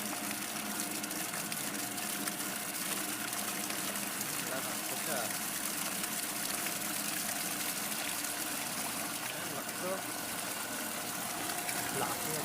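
A 2 HP water pump runs and pushes out a steady stream of gushing water, a constant rushing hiss with a faint motor hum underneath throughout.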